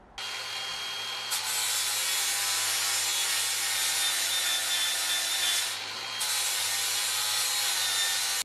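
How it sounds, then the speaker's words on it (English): An abrasive flap disc grinds down weld seams on a classic Saab 900 body, a loud, steady hiss with two brief dips in intensity as the disc lifts off the metal. "now we're going to go over it with the flappy disc to make it a little bit cleaner"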